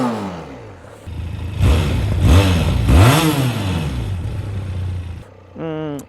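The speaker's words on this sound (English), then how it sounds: "Let's rev it up." A QJMotor SRT 500 motorcycle engine revs close by, rising and falling in several strong throttle blips over a rumbling idle, then settling, with a brief voice at the very end.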